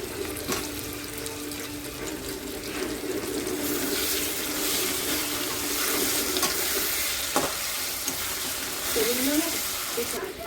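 Potatoes frying in a pan for chicken khichuri, giving a continuous soft sizzle with occasional stirring clatter, fairly quiet and close, with faint background voices.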